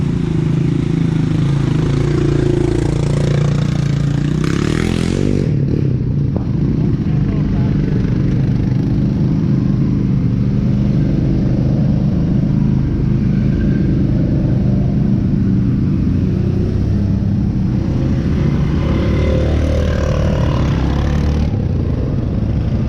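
A 2021 Yamaha Grizzly 700 SE ATV rumbles loudly and steadily while riding on trails in the Madawaska Valley, the engine drone continuous and close with rattling and wind buffeting, and someone talks over it.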